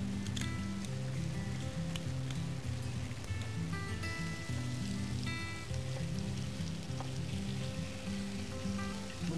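Lamb tenderloins sizzle in a bit of oil in a hot pan, a steady broadband crackle running throughout beneath background music.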